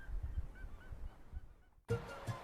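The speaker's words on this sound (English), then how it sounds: "you can even hear some native birds" Native birds honk and call intermittently on a trek from Chukchilan to Quilotoa, goose-like cries at moderate distance, then a louder burst of calls near the end.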